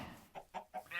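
Minecraft chickens clucking, three short close clucks in quick succession, clear and alone with no talk.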